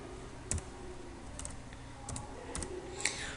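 Fingers tap out a word on a computer keyboard, a few sparse, crisp key clicks spaced apart over a quiet background.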